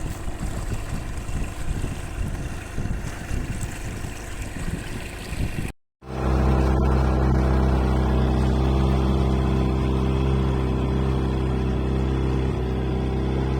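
An outboard motor drones on the fifty-year-old sailboat Sibongile, first under gusty wind noise, then after a brief cut a steady loud low engine hum runs close and continuous.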